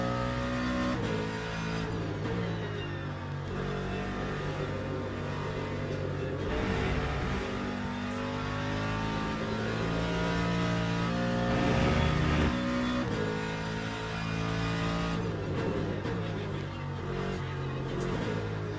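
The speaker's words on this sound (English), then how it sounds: "There's like a fake sound when it gets to the top of the rev limiter." GT3 race car engine in Le Mans Ultimate held high against the rev limiter, a loud sustained buzzing drone with small rises and dips in pitch throughout.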